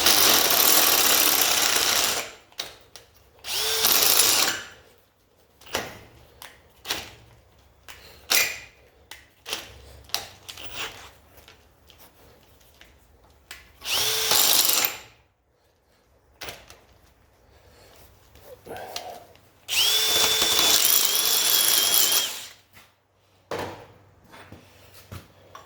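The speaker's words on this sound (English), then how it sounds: "There we go, bigger drill bit." A power drill fitted with a larger bit bores into metal for a simple campfire grill, running in several loud bursts of a few seconds each with short pauses and quieter handling sounds between them.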